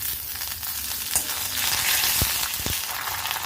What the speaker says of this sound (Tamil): எண்ணெய் சூடானதுக்கப்புறம் இதில் கொஞ்சமாக கடுகு சேர்த்துக்கிறேங்க.